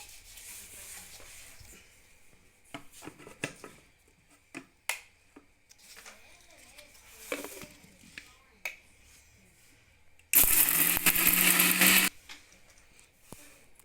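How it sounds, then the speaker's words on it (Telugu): A mixer grinder whirs loudly in one short burst of about two seconds, grinding roasted ginger with salt, after a stretch of quiet clicks and handling of the jar and lid. "ఇది మిక్సీకి పట్టుకుందాము."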